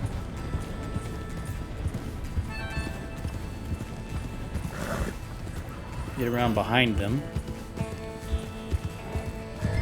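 In Red Dead Redemption 2, horses clip-clop along at a run while being herded, and one neighs loudly partway through, while someone speaks over the hoofbeats and game music plays underneath.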